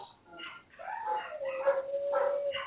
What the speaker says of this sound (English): these dogs are crazy. Like there's these two chihuahuas